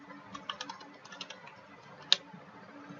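Sparse, light clicks of typing on a computer keyboard in a quiet room while entering text into a web form, with a few soft keystrokes and one sharper tap, no voices.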